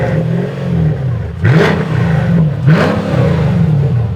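A Mercedes SLK with an M113 V8 engine idles with a deep rumble, then revs sharply twice in quick bursts, loud and close.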